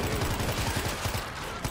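Rapid gunfire rattles in a video game, a dense burst of closely spaced shots over a loud, busy background.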